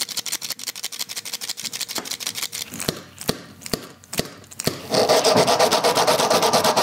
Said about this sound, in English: I left a space in between every wheel, so there's so many components rattling now.